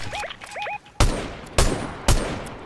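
Sniper rifle fire in the video game Fortnite: three loud, sharp gunshot cracks about half a second apart, following brief electronic chirps.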